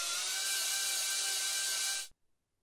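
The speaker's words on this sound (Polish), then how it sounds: "To piła oscylacyjna." A high-pitched oscillating saw cutting a cast whines steadily at close range, then cuts off abruptly, leaving near silence with a faint click or two.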